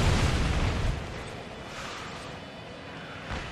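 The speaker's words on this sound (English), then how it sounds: "Missile launch" A missile launches in the combat flight game Ace Combat Assault Horizon: a loud, rushing blast with a heavy low-end thump at the start, settling into a sustained roaring hiss that fades slightly over a few seconds.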